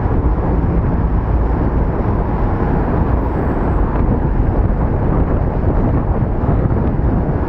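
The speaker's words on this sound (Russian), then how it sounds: "Ветер." Loud, steady wind buffeting the microphone while riding a Fuji fixed-gear bicycle to the start of a race, a dense roar that runs without a break and has no talk over it.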